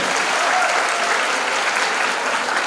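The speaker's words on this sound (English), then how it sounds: "Can we have a big round of applause for this question?" An audience at a college Republic Day celebration applauds, loud and dense, clapping steadily throughout.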